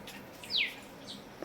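Sparrows chirp at a nest in a home garden, giving a few faint, brief, high, downward-sweeping tweets spaced apart against a soft outdoor background, with no talking.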